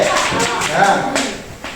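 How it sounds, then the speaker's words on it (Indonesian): A short burst of classroom applause for a student, a handful of quick claps overlapping with a teacher's voice talking through it. "tepuk tangan untuk Zakia dulu"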